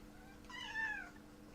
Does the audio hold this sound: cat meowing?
yes